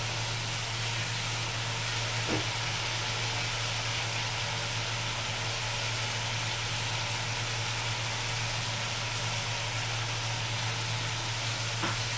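Potatoes and paneer fry with spices and sugar in a pan, a soft continuous sizzle over a steady low hum, with only a couple of faint clicks and no sharp popping.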